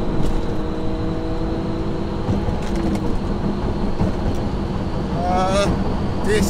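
A 3.2-litre Audi A3 accelerating hard on a drag strip, its engine a loud continuous roar that climbs in pitch near the end, heard from inside the car.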